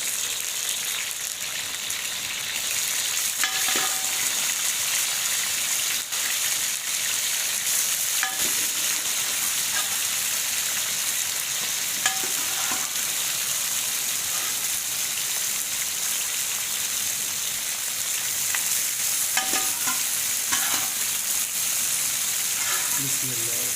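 Mutton sizzles and fries with onions in a karahi, giving a steady, moderately quiet crackling hiss with faint clinks of stirring throughout.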